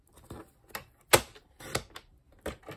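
Scissors or a trimmer cut through stacked card stock pieces for a stamped panoramic card, making a few sharp, separate snips and crunches close by, one louder than the rest.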